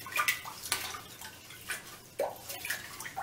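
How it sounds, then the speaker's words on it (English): Water in a toilet bowl gurgles and drains while a brush scrubs it, producing a series of splashy swishes and drips that are fairly faint and close. "just use a brush and just keep brushing it in the toilet and the water will quickly go down"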